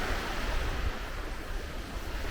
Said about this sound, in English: With the sound of beach in the background